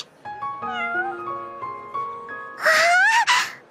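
A cat meows in a series of drawn-out, wavering cries, followed by a louder, strained yowl near the end; close and clear with no talking.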